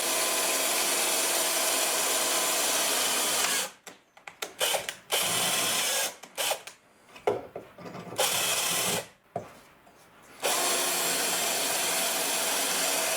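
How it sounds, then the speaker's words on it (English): A slightly dull drill bit bores out spot welds on a Mercury Sable rocker panel, grinding steadily in close, loud bursts broken by several short pauses. "That's, I think, one of the most irritating things drilling, though, is that catch from just as it's ready to come out."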